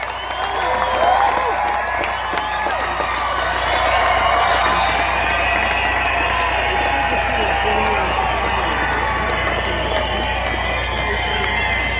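A large crowd at a Trump rally in Golden, Colorado cheers and whoops continuously, a dense, loud roar with scattered shouts and some clapping, sustained without a break.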